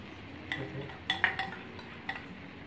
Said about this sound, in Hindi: मसूर दाल तो काफ़ी अच्छी भिजी हुई है तो डालेंगे हम इधर पॉट में